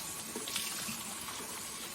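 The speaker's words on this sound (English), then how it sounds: "And then go ahead and rinse it all out" Running faucet water splashing over a washcloth being rinsed at a sink, a steady close rush of flowing water with no talk.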